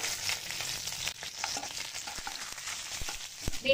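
Hot tempering oil with cumin, dried red chillies and curry leaves takes a pinch of asafoetida, giving a steady close sizzle with scattered sharp pops and occasional stirring clicks, no voices.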